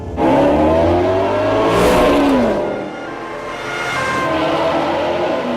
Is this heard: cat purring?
no